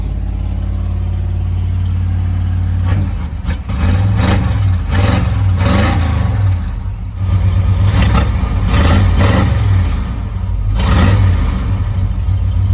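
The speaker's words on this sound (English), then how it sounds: "So you can start to hear the transmission whir. It's got a whirring noise." Square-body truck with an LS Vortec swap driving along, a steady low engine drone with a transmission whir rising and falling as it accelerates through repeated surges, loud and close from inside the cab, no talking.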